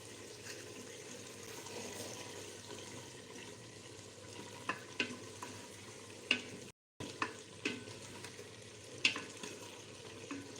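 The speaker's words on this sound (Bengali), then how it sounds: "এখানে লাউ শাক রান্না হচ্ছে আর হচ্ছে মাংস রান্না করেছি।" Bottle gourd greens cooking in a pan, giving a steady low sizzle throughout with occasional soft clinks and scrapes of stirring, fairly quiet and heard without talk.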